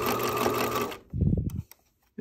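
Sewing machine running a twin-needle stitch along a knit neckband, a steady dense whir for about a second, then a short slower burst of stitching before stopping.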